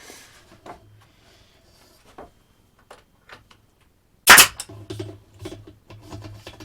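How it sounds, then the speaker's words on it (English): A worn-out nail gun fires a single sharp, loud crack into wood, standing out clearly above quiet workshop sounds and a few soft knocks. "this nail gun's seen better days"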